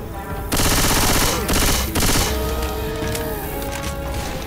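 Rapid automatic gunfire from a Left 4 Dead 2 match, loud and close, in dense bursts that start and stop, with a short pause and lingering game noise between volleys.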